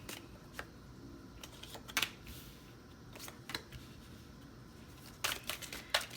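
Tarot cards being shuffled by hand, with quiet, uneven riffles and papery snaps in short bursts and faint rustling between them, and no voices.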